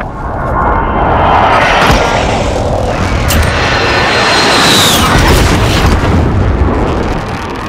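Air strike explosion in Call of Duty: Warzone, a loud, sustained roaring boom with dense rumbling blast noise lasting several seconds, close and overwhelming.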